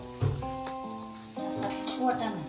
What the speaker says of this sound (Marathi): हा मसाला टाकलेला आहे. अशा पद्धतीने तो व्यवस्थित हलवून घ्यायचा.